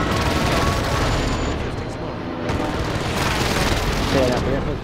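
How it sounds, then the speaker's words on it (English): A precision airstrike in a Resurgence video game match sets off heavy, rumbling explosions that roll continuously and loudly, with dense booming throughout. "Allied precision airstrike incoming"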